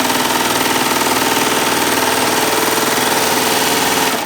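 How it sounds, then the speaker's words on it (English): A Baby Lock Triumph serger runs at speed, giving a loud, steady, rapid mechanical chatter that continues without pause from start to finish. "it starts sewing right away"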